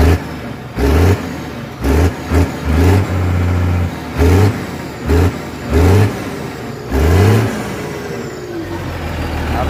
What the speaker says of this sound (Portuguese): Tá vendo aquele canto original? Trator bruto pra caramba.